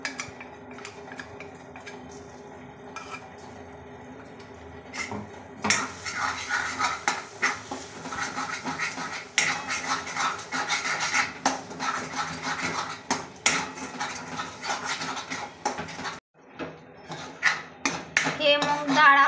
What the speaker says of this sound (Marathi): हे मूग डाळ आपल्याला लो मीडियमवर भाजून घ्यायची आहे, याचा गोल्डन कलर येईपर्यंत